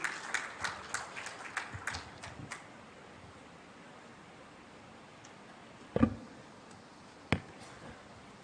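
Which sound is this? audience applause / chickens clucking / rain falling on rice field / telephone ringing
audience applause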